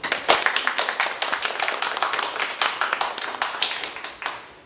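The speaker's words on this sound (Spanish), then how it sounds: "Quisiera hacer de la profesora Bárbara, un gran aplauso" Steady, dense applause from a seminar audience for Professor Bárbara at the close of a thirteenth session, many hands clapping fast and evenly for several seconds before tapering off at the end.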